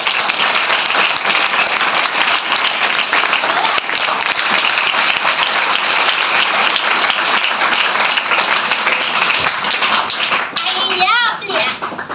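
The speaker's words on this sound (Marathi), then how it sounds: "त्यांच्यासाठी जोरदार टाळ्या झाल्या." A large audience claps loudly and steadily for about twelve seconds at a Savitribai Phule Jayanti celebration, with a dense, unbroken wash of hands and a few voices and children audible near the end.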